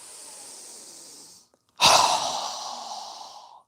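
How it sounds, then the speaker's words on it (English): A breathing exercise during yoga: a soft, steady inhale through the nose, a short pause, then a louder, breathy exhale through the mouth that fades out, close and with no talking. "inhaling through our nose, exhaling through our mouth"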